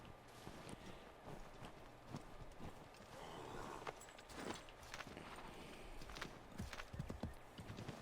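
Horse hooves clip-clop steadily in Assassin's Creed III, a continuous walking rhythm of soft hoofbeats over a busy game ambience, with an occasional snort and no talk during it.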